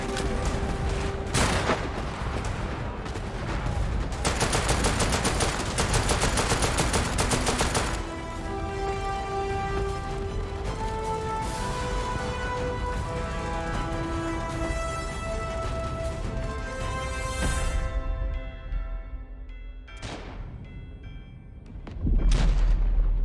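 Heavy gunfire and explosions in a Battlefield-style war video game: rapid machine-gun bursts and booming blasts pile up loud and close, then fade into music-like tones before a final heavy boom.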